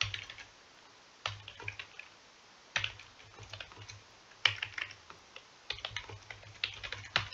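Computer keyboard typing in bursts, quick clusters of light clicking keystrokes separated by short pauses, close and fairly quiet with no talking.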